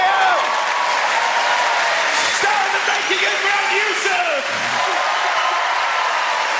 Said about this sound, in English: So let's have a round of applause, please, for everybody we've seen tonight.